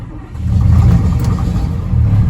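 An old dairy stationary engine, left unstarted since mid-February, rumbles loud and low as it fires and settles into a steady running drone.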